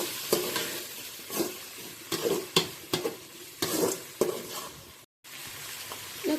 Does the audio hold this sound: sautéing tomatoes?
yes